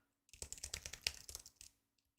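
Gentle typing on a quiet PC keyboard, a quick burst of light, close clicking keystrokes lasting about a second and a half, then silence.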